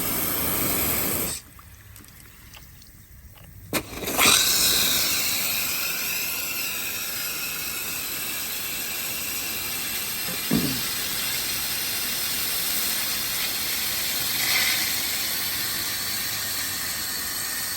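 A Thompson 183 gear-driven rotor turf sprinkler sprays outdoors with a continuous broad watery hiss, briefly dropping off early on, then running steadily with faint ticking of the mechanism.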